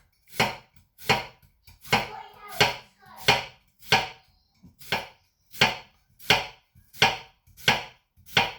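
Knife chopping through an onion on a cutting board while it is finely diced, about a dozen crisp, evenly spaced cuts in a steady rhythm, close and clear with no talking.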